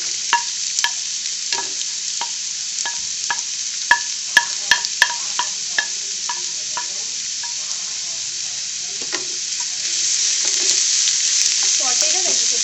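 Onion, capsicum and carrot sauté in oil for a samosa filling, with steady sizzling and repeated sharp scrapes and taps of a spoon against the pan, growing busier and louder toward the end.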